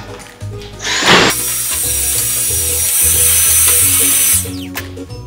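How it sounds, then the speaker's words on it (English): A vacuum cleaner switches on with a burst and runs with a steady high-pitched whine for several seconds, then cuts off. "Time to vacuum up the mess."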